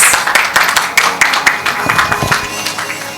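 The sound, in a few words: audience applause at award ceremony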